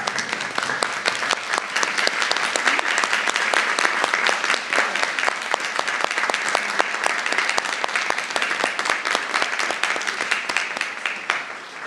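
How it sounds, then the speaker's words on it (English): A graduation audience stands and applauds students' supporters at a commencement ceremony, a dense, steady roar of many hands clapping that holds loud and even for the whole stretch. "Students, will you please rise with me and give a round of applause to those who supported you?"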